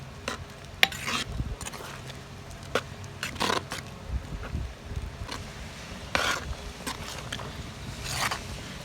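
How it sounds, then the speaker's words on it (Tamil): A pot of bottle gourd and dried fish curry bubbling and simmering on the stove, with intermittent soft pops and a few sharp clinks and scrapes over a steady low hiss. "குழம்பு கொதிஞ்சிருச்சு"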